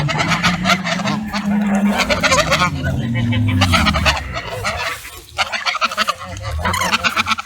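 Swans and ducks crowd in close while being fed, loud honking and squawking calls overlapping one another, with a person's voice speaking over the birds.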